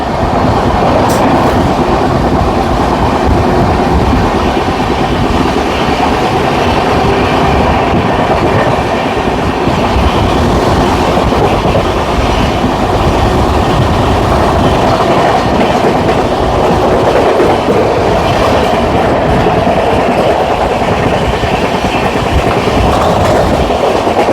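Onboard a Jharkhand Sampark Kranti passenger train on the Delhi to Ranchi route, steady loud rumble of wheels on rails with rhythmic clickety-clack and rattling carriage, continuous throughout with no talk.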